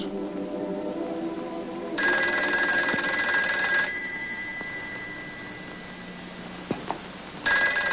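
A telephone bell rings in loud bursts, one long ring followed by a pause and then the start of another, in a quiet room with no voices.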